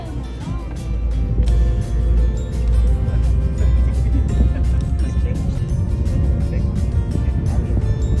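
A steady low engine rumble with rushing water as a boat moves along from the Cancun mainland to Isla Mujeres, the drone staying loud and constant throughout.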